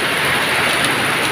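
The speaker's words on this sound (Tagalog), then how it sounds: "Napakalakas ng ulan at bumuhos." Heavy rain pouring down in Valenzuela at night, a dense, loud, unbroken roar of water close by that fills the whole stretch with no voices.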